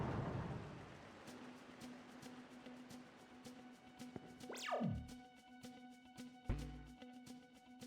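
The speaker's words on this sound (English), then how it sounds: "I like how this tower, it sounds like it's always raining" Steady rain ambience inside a tower in the video game Shin Megami Tensei: Digital Devil Saga, a faint, constant hiss running under scattered game effects, including a sweeping tone and a couple of low thuds.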